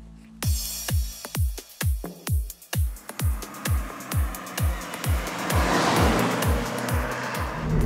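A 2023 Subaru BRZ sports car's engine revs and climbs through the gears with a rapid series of repeated pulses, loud and close, then holds a steady roaring drone.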